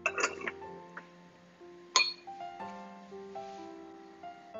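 A metal lid clinks onto a cooking pot of chicken simmering in reserved stock. Sharp, close clatters sound at the start and again about two seconds in, over soft steady background music.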